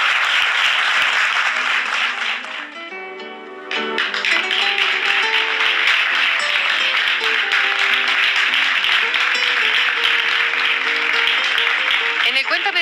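Sustained studio audience applause on a 1994 Spanish-language talk show, loud and dense with many hands clapping, briefly dipping and then swelling back to full strength until the end.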